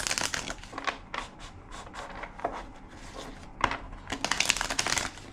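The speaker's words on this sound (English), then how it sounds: "Two more shuffles." A tarot card deck is shuffled by hand, giving dense papery riffles and crinkly rustles in uneven bursts that build to a louder flurry near the end, close and clear with no voices.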